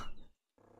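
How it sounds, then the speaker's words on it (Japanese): In the video game Loser Simulator, a dog gives two short, gruff barks or growls split by a brief silent gap, close and fairly loud. "ああ、この犬の声が"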